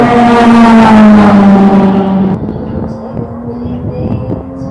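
A Porsche 991 GT3 R race car roars loudly from close range, its engine note sliding down through a gear, then settling into a rougher, busier drone.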